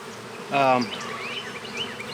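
Honey bees buzz at the entrance of a newly installed nucleus colony hive, a close, loud drone swelling for a moment and then easing into a steady, softer hum of nearby insects.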